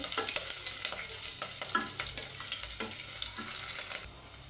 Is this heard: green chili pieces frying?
yes